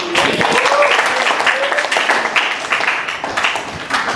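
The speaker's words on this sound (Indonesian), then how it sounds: "tepuk tangan dong" Classroom applause breaking out after a mention of Muslim fashion shown at New York Fashion Week, a dense steady patter of clapping with some voices mixed in.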